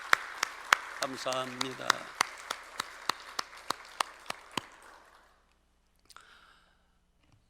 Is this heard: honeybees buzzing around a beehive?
no